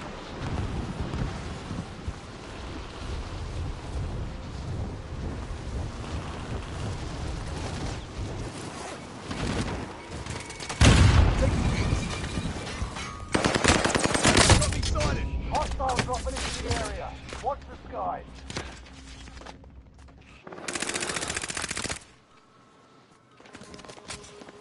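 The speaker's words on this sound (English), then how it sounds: "Hostile fire!" Machine gun fire in the video game Warzone, heard as a dense, loud, continuous barrage of gunfire and explosive bursts with a few heavier blasts, ending in a brief lull.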